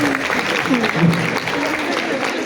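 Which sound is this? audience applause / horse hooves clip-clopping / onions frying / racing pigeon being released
audience applause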